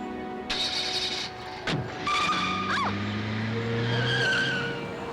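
A car races at high speed with tires squealing and skidding, long rising and bending screeches layered over a rushing engine drone that stays loud and close throughout, with no talk.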